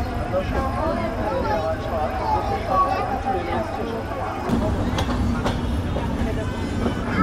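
The Sagardari Express pulls into Alamdanga railway station, running late in the evening. Its rumble and rattling wheels are steady at first, then shift to sharper clanks and bumps as it slows, with a babble of voices throughout.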